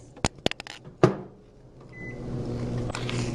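A few sharp clicks and a door thump give way to the low steady hum of a microwave oven running, with a brief tone partway in.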